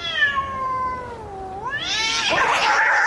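A cat yowls loudly nearby, a long wavering cry that bends down then rises into a harsh, hissing screech.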